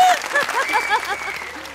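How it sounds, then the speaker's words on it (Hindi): Audience applause in a studio talk show welcoming the host, steady clapping through the whole moment with a voice carrying over it. "और अब सबसे बड़ी और मजबूत तालियां"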